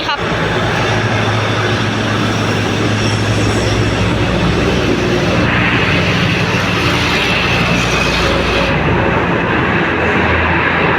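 Train no. 75 from Bangkok pulls into Nong Khai station as a constant loud rumble of wheels and carriages, dense and unbroken, with a voice speaking over it.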